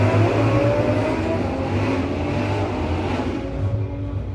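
Drag cars, a Suzuki and a Camaro, run down the racetrack with a loud, close engine roar and deep rumbling drone that holds steady for several seconds before easing slightly at the end.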